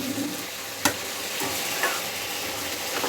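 A vegetarian dish with cumin and coriander powder cooking in a pan on the stove, a steady close sizzle with a couple of sharp clinks of a utensil against the pan.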